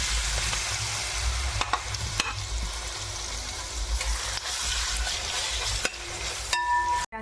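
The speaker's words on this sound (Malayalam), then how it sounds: "നമ്മൾ നെയ്യ് ചൂടായി വന്നപ്പോൾ ഈ ഏത്തക്ക ഇതിനകത്ത്" Raw banana slices fry in hot ghee in a pan, giving a steady, loud sizzle with occasional stirring scrapes and no voices.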